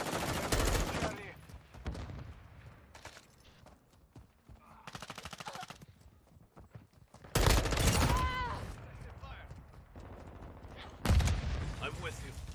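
Rapid gunfire bursts and single shots ring out in a multiplayer shooter match, mixed with loud nearby bangs, game radio callouts and players shouting over the action.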